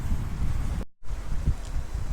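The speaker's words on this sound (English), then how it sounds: "So guys, as you can see, it's very windy." Strong wind on Lanzarote buffets the microphone in steady low rumbling gusts, with a momentary dropout partway through and no talking.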